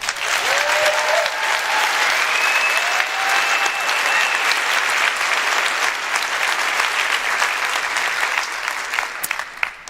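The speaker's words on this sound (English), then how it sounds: "Can we have one more gigantic round of applause for Joel Makower?" A large audience at a keynote event for GreenBiz 24 gives loud sustained applause, a dense unbroken wash of clapping with a few whoops and cheers rising above it, lasting the full ten seconds.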